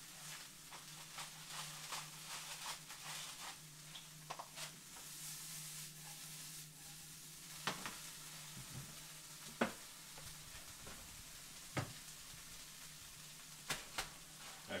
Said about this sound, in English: while the veggies are cooking up